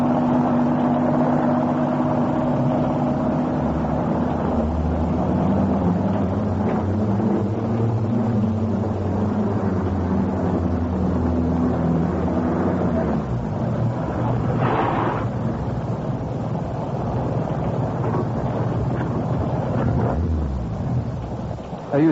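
A car engine runs continuously at a steady, rumbling idle, heard from inside or close to the vehicle, with a shifting low drone and brief bumps, no talk over it.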